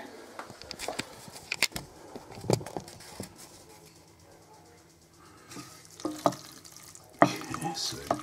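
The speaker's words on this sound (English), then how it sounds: "now we need to stir almost constantly" Macaroni cooking in a pan on a stove is stirred almost constantly, with repeated close scraping and clacking strokes over a low sizzle and brief quieter stretches.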